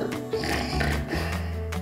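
A storyteller imitates a character snoring during a children's story: one long, rumbling, nasal snore, close and fairly loud, with no other talk.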